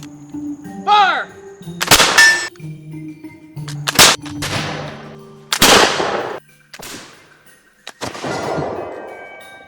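Black powder gun shots firing a ball: several loud, sharp booms spaced a second or two apart, each with a ringing decay, preceded by a brief rising whistle-like tone and low background hum.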